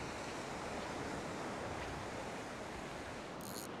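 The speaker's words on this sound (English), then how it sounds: "you can see that there's a few little waves breaking" Small waves breaking gently on a sandy beach beside a sandbar with the tide going out, a steady wash of surf with light wind, continuous and fairly soft, no voices.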